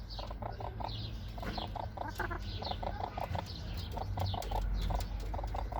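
Hens cluck steadily in short repeated bursts over constant background noise, with several birds calling close by as they wait around a hen about to lay, to eat her egg.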